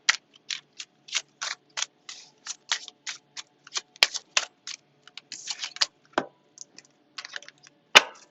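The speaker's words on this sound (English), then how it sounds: "I am shuffling these, man." Yoga oracle cards shuffled by hand in a steady run of crisp riffling bursts, about two a second, close and fairly loud, with a sharper snap near the end and no talking.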